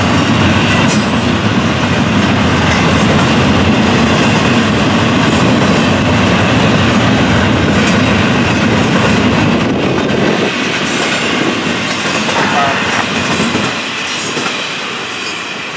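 FEC 206, a block intermodal freight train of piggyback trailers and double-stack containers, rolls past nearby with loud continuous rumble and clickety-clack of wheels, some wheel squeal, easing slightly toward the end.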